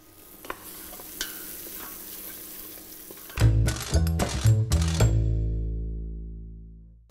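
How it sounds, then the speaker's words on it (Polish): Onions fry in a pan until golden, a quiet sizzle at first, then several loud, close metallic scrapes and clatters of stirring over about two seconds, before the sound fades to a low hum. "i smażymy na złoty kolor."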